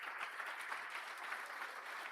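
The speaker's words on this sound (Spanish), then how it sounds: "Déselo bien dado ese aplauso" A church congregation applauding for the Lord during a Spanish-language service, a steady, fairly quiet wash of many people clapping, with no talking over it.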